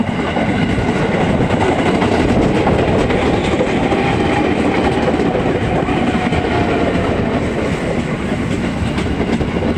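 A train, including a Jaya passenger train, passes through station G at close range, a loud, steady rumble of wheels and cars carrying on without pause throughout, with rail clatter and no talking.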